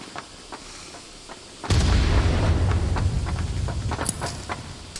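Grenade blast and gunfire in a competitive first-person shooter tournament match: quiet scattered shots give way to a sudden loud boom whose heavy low rumble sustains, with sharp pops and cracks continuing on top.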